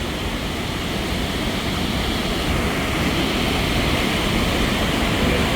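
A waterfall near Trollstigen in Norway roars as a dense, steady rush of water, loud and continuous with no voices over it.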